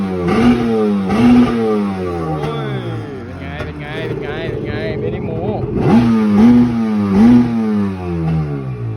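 A Yamaha XL 760 jet ski engine roars to life and revs up and down in repeated surges, loud and close, with someone talking over it.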